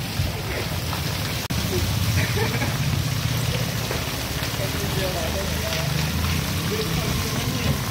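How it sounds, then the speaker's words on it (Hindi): Rainwater rushes through a flooded street in Sujangarh during heavy rain, a steady broad wash of flowing water and rain hiss with a sharp knock partway through, under faint background voices. "देखिए कैसे पानी बह रहा है।"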